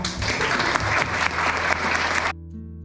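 Students and audience at a high school public hearing on campus smartphone use clap together, a dense, loud burst of applause that cuts off abruptly near the end, leaving near silence.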